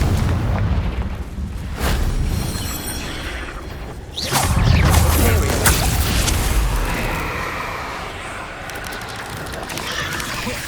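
Repeated Confringo blasting-spell explosions in Hogwarts Legacy on PS5 during the Victor Rookwood boss fight: heavy booms with whooshing bursts, one big blast in the middle, over a continuous rumbling battle bed.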